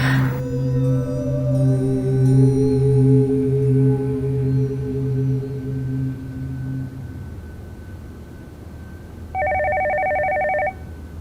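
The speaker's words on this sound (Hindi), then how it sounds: "उसमें फोन मिला साइमा को।" A telephone rings twice with an electronic two-tone trill near the end of a call scene, following a sustained tonal musical passage.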